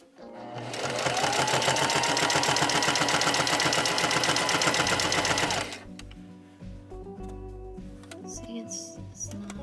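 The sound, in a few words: sewing machine stitching a straight line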